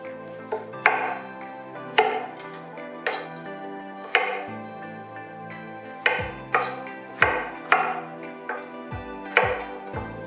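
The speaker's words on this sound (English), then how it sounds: "now what I'm going to do is just chop it up into small pieces" A knife chops butternut squash into small pieces on a board: about a dozen sharp, distinct thuds in an uneven rhythm, close and fairly loud, with no voices.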